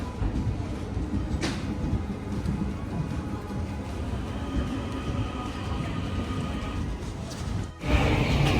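A train rumbles steadily through a hidden railway station in Dublin, Ireland, a loud continuous low roar with faint rattling, broken by a brief dip near the end before the noise swells again.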